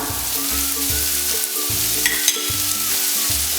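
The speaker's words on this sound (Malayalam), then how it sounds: "ഇനി സവാള നമുക്ക് നന്നായിട്ടൊന്ന് വഴറ്റിയെടുക്കണം" Onions sautéing in a pan for Kerala-style chicken stew, a steady loud sizzle with periodic scraping stirs and a low hum beneath, no talking.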